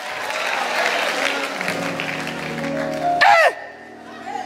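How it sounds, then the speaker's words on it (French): Church audience applauding and cheering during a sermon, a steady, dense clatter of clapping with crowd noise that swells briefly near the end before fading. "J'acclame pour toi."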